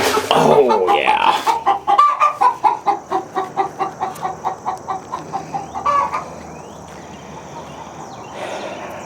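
Backyard hens cluck close by in a quick, rhythmic run of short calls that fades into quieter, scattered clucks, with a few louder squawks near the start.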